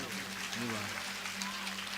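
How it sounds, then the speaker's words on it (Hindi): Audience applause at a Shrimad Bhagavat Katha religious gathering in a village, a steady spread of many hands clapping under a voice and a droning tone. "हाँ तो जोरदार एक बार तालियां बजा दें आप लोग"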